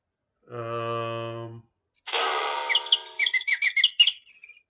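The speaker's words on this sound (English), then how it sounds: "It should be a bird" A bird sound plays from a stream soundboard: a sustained harmonic tone, then a burst of rapid chirps and tweets, clear and close with no talk over it.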